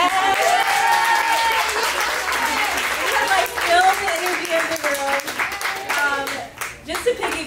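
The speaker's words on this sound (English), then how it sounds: "I need more of a round of applause." Audience at a live storytelling event applauding, sustained clapping with cheers and whoops mixed in, full and close, tapering off near the end.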